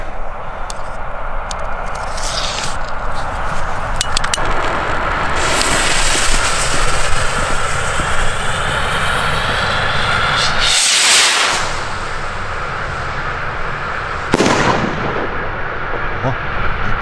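Firework rocket of the Red China Full Sky 40 g type launching and bursting overhead, with sharp whooshes and loud cracking explosions in sequence, a sustained crackling fizz between bursts.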